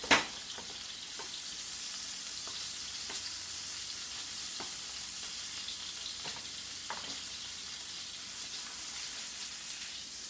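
A hamburger patty frying in a pan gives a steady, close sizzle with scattered small pops and crackles, no voices over it.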